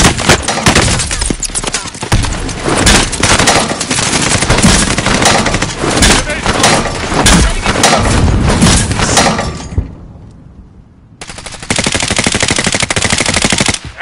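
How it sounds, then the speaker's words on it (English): Sustained bursts of loud automatic machine-gun fire in the video game Warzone, dense and rapid, briefly dropping off before resuming in another hard burst, with no talk. "Taking fire."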